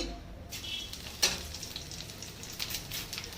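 Five-spice tempering hitting hot oil in a wok for a vegetarian drumstick dish, giving a soft, steady sizzle with one sharp clatter partway through and no talking.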